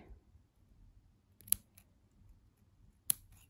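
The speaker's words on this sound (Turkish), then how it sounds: "Hemen burada makas yardımıyla dibinden kesip" Scissors cut thread on a headscarf edging project, giving two crisp, isolated snips about a second and a half apart against a quiet background.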